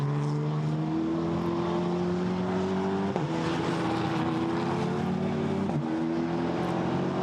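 GT4 race cars lap the Misano circuit, their engines a continuous loud drone with rising and falling revs and shifting pitch as several cars run close together through the middle section.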